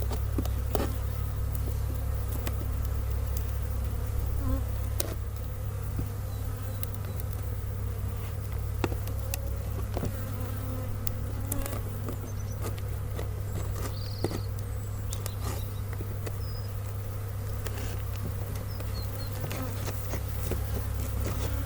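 A dense, steady hum of many honey bees buzzing close by at an open beehive, with occasional faint clicks and knocks throughout.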